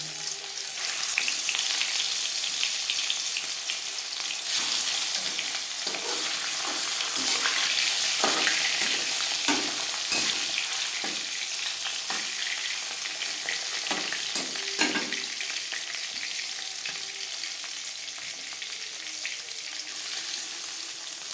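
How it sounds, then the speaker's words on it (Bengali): Steady, close sizzling of marinated fish frying in hot refined oil, with occasional crackles and pops rising above the continuous hiss. "চার চামচ রিফাইন্ড অয়েল গরম করে নিয়েছি এবার দিয়ে দেব ম্যারিনেট করে রাখা মাছ"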